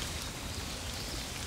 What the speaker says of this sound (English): I can hear some very light rain and some light wind.